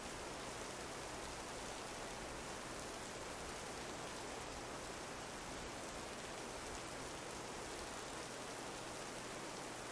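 Steady downpour in the This Land Is My Land video game, a dense, even wash of rain noise held at constant level throughout with no voices.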